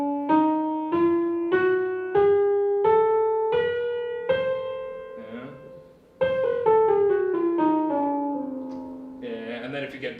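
Sequence of diminished seventh chords forming an octatonic scale, played as a run of separate struck chords rising step by step, then a quicker cluster of notes, with a voice briefly audible near the end.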